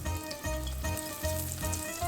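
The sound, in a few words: eggplant slices sizzling in hot oil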